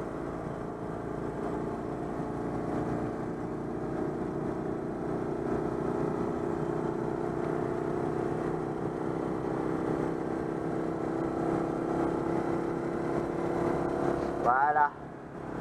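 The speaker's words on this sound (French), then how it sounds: "c'est juste pour vous montrer que le moteur marche très bien" A Citroën 2CV's small engine drones steadily under acceleration on a road test, heard from inside the car with a rising hum and talk over it, ending in a brief clunk.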